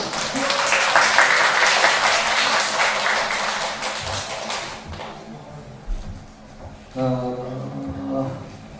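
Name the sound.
audience applause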